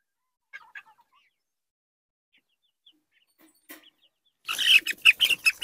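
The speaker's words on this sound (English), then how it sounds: "this is one of my girls, one of my blue lace line Wyandottes" Blue laced Wyandotte hen clucking, a few faint sparse clucks early on, then a louder rapid run of close clucks at the end.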